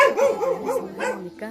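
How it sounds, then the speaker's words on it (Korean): A dog on a quiet country property in Gapyeong barks in a quick run of close, loud woofs and yips, with a brief word of Korean speech at the end. "우리 강아지가 멋지게 멋진 목소리로 짖고 환영해주고 있습니다"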